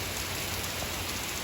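Outdoor rain falls as a steady, dense hiss of drops with no pauses and nobody speaking over it.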